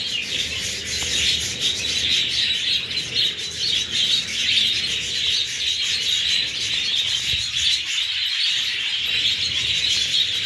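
Parrots chirp and call outdoors in snow, a steady bright high twittering carrying on throughout at moderate level over faint low rustling.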